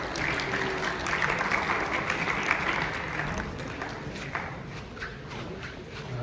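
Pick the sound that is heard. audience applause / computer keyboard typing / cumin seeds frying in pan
audience applause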